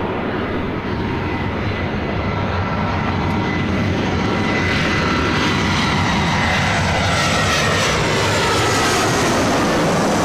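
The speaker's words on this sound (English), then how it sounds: "Delta Airlines flight 848 on this A319." A Delta Airlines Airbus A319 jet arriving at LAX roars loudly and steadily at close range, its engine rumble and whine filling the whole stretch without pause.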